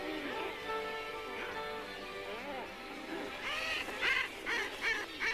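Packed guillemot colony on steep sea-cliff ledges, birds uttering growling, honking calls that overlap and rise into a louder raucous burst near the end.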